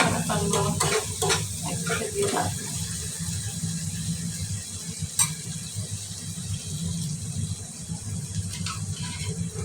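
Dried fish (shutki) fries in a pan with a constant sizzle, while quick stirring scrapes and clinks come in a busy cluster at first and then fall to occasional knocks.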